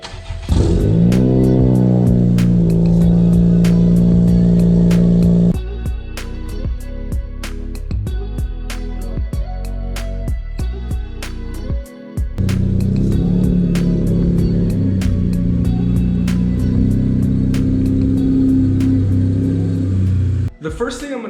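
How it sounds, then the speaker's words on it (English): A Honda Civic Si engine starts and idles, revving up as it pulls into a garage, with a loud, close rumble that cuts out briefly around the middle before picking up again. "let's go ahead and get the car started up and pulled back in the garage so we can begin working"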